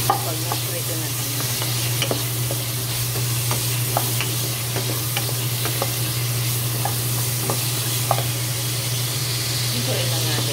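Boneless milkfish (bangus) frying in a pan with garlic, onion and tomato, a loud steady sizzle and hiss with scattered crackles and stirring scrapes throughout, nearby.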